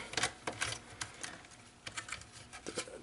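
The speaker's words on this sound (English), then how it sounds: "I'm just taking those two screws out" Small clicks and scrapes of two screws being unscrewed during a VonShef stand mixer teardown, close and faint, scattered irregularly over a soft background hiss.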